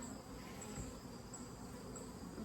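Honeybees hum faintly and continuously around an open 24-frame Layens horizontal hive during a late-summer inspection, a soft steady drone.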